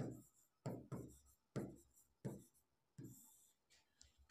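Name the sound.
chalk or pen writing numbers on a board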